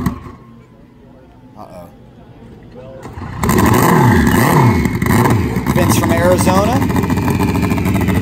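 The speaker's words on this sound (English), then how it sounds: "It's a Hayabusa with electronic fuel injection, Fuel Tech technology." A Hayabusa drag-racing motorcycle engine with electronic fuel injection roars in loudly after a quieter stretch, revving hard with rising pitch sweeps, while an announcer talks over it.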